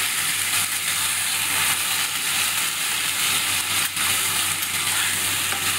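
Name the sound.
soaked rice and vegetables being stir-fried in a pan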